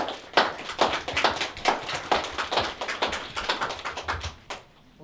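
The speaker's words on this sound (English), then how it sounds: "Let's give him a round of applause." A live audience claps in a round of applause for a performer at a Trans Day of Remembrance event held in an office, steady dense clapping lasting several seconds before tapering off.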